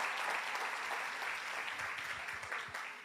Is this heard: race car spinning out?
no